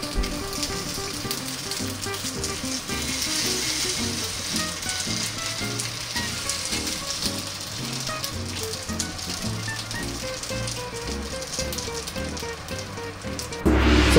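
Steady crackling sizzle of food cooking in a hot sandwich maker at a campsite, continuous and moderately loud with no talking.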